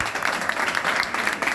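A school audience applauds a 16-year-old student after his introduction. The clapping is brief, dense and steady, filling the short moment without any voices over it.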